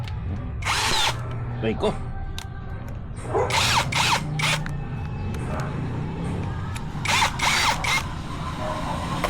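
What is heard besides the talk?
Tanzu 13mm electric drill drilling into stone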